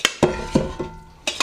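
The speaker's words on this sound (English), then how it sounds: "Just dumping this rice in here." Rice tipped into a large cast iron skillet of melting butter, a few sharp clattering impacts and scrapes of grains and utensil against the pan, close and fairly loud, with a faint sizzle between.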